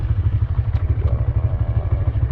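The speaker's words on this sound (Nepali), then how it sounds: "बाइक रोकेर अनि हेरेर जानुपर्छ ल" A motorcycle engine idles with a steady low, pulsing throb, close and fairly loud, with a couple of faint clicks over it, as the bike comes to a stop at a roadside spot.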